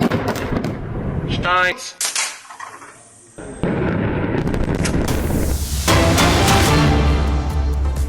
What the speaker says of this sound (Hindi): दक्षिणी लेबनान पर आईडीएफ का हवाई हमला।